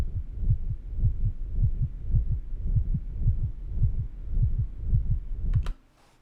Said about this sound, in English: one of the last things I added was this heartbeat